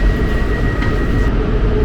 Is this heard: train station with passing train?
yes